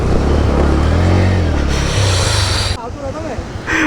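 Fast-flowing water roars loudly as a motorbike crosses through it, a close, constant rushing wash mixed with engine rumble and wind buffeting.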